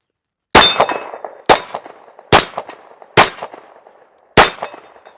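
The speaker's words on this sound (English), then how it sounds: "we're going to leave it off with some shooting of some steel targets" Five sharp, loud shots from a Glock 19 Gen 5 pistol fitted with a Radian Ramjet Afterburner ring out about a second apart, each followed by a ringing metallic clang from steel targets.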